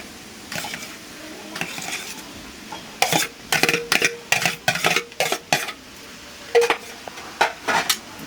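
Metal spoon scraping and clinking in a pan as boiled potato is added to a fish cutlet mixture, a run of sharp irregular clatters and knocks over a low stovetop hiss, no talk.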